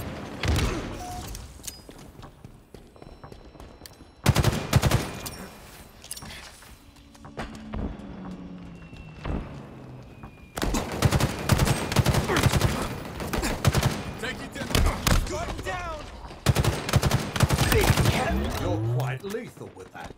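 Halo Infinite multiplayer gunfire: repeated bursts of automatic fire and sharp shots come in several clusters over a busy backdrop of game effects, with short quieter gaps between the bursts.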